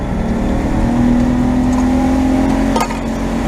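A boat's outboard engine revs and holds a loud, steady drone as it accelerates to get on plane, with a brief rattling burst near the end and no speech.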